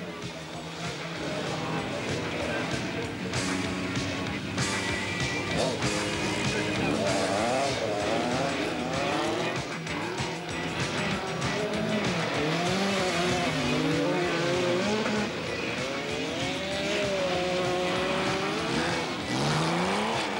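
Rally cars in the 1985 Belgian championship, including an Audi 80 quattro, race through mud with loud revving engines, shifting pitch as they accelerate and slide, and occasional tire squeal, all sustained and close throughout.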